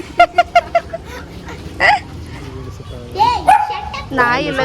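A dog barks four or five times in a quick burst, fairly close, then people talk over background noise with a few more yelps.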